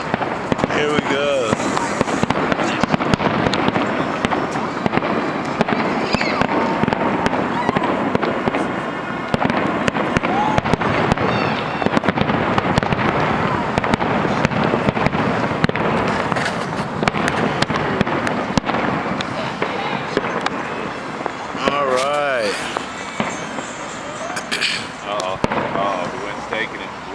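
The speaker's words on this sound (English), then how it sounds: "There's fireworks." Fourth of July fireworks at Coors Field burst in a long continuous barrage of loud booms and crackles, with people talking and whistles rising over the explosions.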